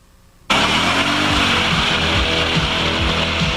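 1999 Mercedes-Benz E55 AMG engine bursting suddenly into a loud, hard-revving roar that holds steady with rhythmic pulsing as it accelerates, close and with no talk.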